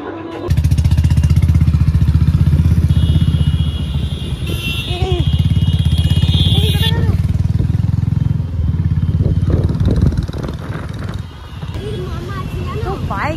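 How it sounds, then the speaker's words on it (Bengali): A motorcycle engine runs steadily and loud and close, with a deep throbbing hum and some mechanical clatter, during an outing to see festival deity displays, while people talk over it. "বাইক দেখি"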